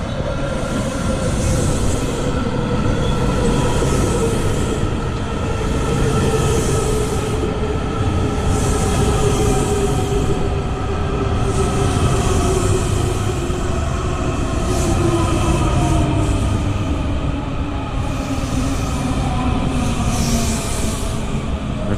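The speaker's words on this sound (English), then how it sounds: "Kawasaki train on the red line to Glenmont entering Rockville." A WMATA Kawasaki Red Line metro train, car 7172, runs into Rockville station bound for Glenmont. It makes a loud, steady rumble with rising and falling motor whine and rhythmic rail noise that continues throughout, with no talk.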